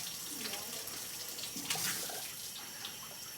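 Fresh water running from a tap into a container during a lab demonstration, a steady close hiss of flow with a brief louder splash midway, no talk over it.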